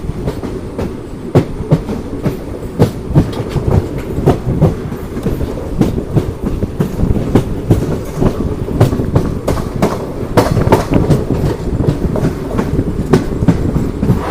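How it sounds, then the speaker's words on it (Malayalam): Thiruvananthapuram Central Express rolling out of Kuttippuram railway station along a curve, a steady loud rumble with continuous clickety-clack of wheels over rail joints throughout. "നമ്മുടെ വണ്ടി അങ്ങനെ കുറ്റിപ്പുറം റെയിൽവേ സ്റ്റേഷനിൽ നിന്ന് പുറപ്പെട്ടിരിക്കുകയാണ്"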